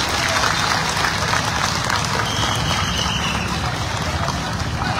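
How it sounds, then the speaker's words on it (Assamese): A crowd at a panchayat election nomination-filing event gives sustained, dense applause, a continuous close roar of many hands clapping without pause. "এটা দীঘলীয়া হাত চাপৰি দিবৰ কাৰণে অনুৰোধ জনাইছো"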